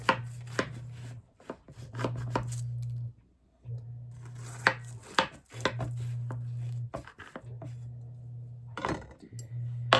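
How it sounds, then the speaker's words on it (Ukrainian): A knife slicing through a freshly baked, slightly cooled strawberry pie, with repeated crisp cutting and scraping strokes in bursts over a steady low hum, fairly close and alone. "починаємо різати пиріг"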